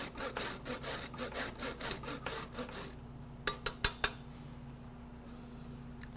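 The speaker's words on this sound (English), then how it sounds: "We're gonna put the microplane right over top and grind in about maybe 1 teaspoon" A whole nutmeg being grated fast on a microplane, a steady back-and-forth rasping of about a dozen quick close strokes, then a pause and a few sharp taps of the grater against a pot.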